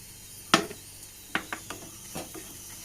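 Semolina and vermicelli being roasted in ghee in a pan with fried cashews, raisins and onion for a caramel thari kanji, heard as a few sharp, separate spoon clinks and scrapes against the pan between quiet gaps.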